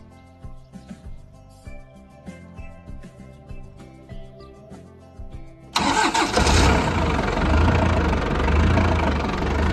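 A Case IH DX55 tractor engine sits quiet with faint background tones, then starts abruptly at about six seconds into a loud, steady, rumbling idle that carries on close by to the end.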